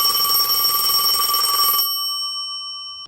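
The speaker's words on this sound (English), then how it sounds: "His phone rang." A telephone bell rings loudly and steadily for nearly two seconds, then cuts off, leaving a faint lingering high tone.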